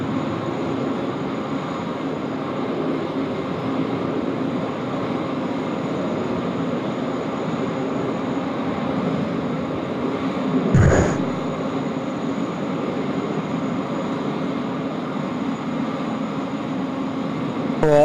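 An Asiana Airbus A380 takes off at Sydney Airport, its engines giving a broad, steady, loud roar that holds for the whole stretch with a brief louder swell partway through, and no one talking.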